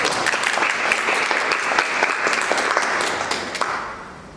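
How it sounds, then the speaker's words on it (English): A live audience breaks into steady, full applause that holds for several seconds and then fades out. "And let's have a round of applause for this live example."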